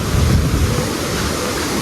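Rushing river water at a stream crossing near Sikles, Nepal, during the monsoon: a steady, close broadband roar with no voices.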